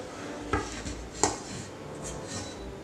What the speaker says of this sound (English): Getting ready to take them out of the pans.